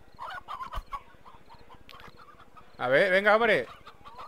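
A chicken in the game Slime Rancher clucks in short bursts, then lets out a louder drawn-out squawk near the end, over a buzzy background with someone speaking briefly.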